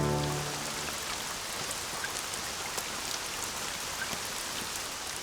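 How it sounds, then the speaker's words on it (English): Steady rainy-season rain falls on a swamp, a dense and even hiss of drops that continues without pause and without any voices. "The rainy season has arrived."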